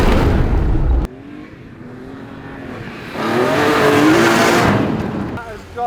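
A BMW E46 M3 launches on a dirt course in second gear: a loud engine burst cuts off sharply, then the revs climb again in a strong rising howl as the car accelerates away, fading slightly before a final surge.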